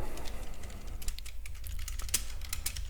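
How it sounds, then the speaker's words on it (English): Steady clicking of keys on a computer keyboard, irregular bursts of keystrokes close to the mic over a low background hum. "if you hear typing, I think the mic picks it up"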